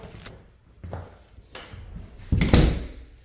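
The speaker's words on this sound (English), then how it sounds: "Closet door." A few wooden knocks and a sliding rattle as an interior closet door is moved, ending in a louder thump of it shutting, close by and unaccompanied.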